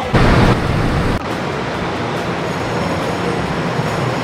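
A steady, loud roar of a train ride in Taiwan, broadband rumble with a louder jolt at the start, continuous and close with no talking.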